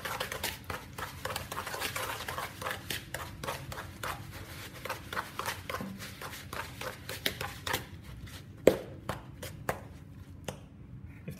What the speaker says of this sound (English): You're going to mix the butter and the sugar together until it's nice and creamy.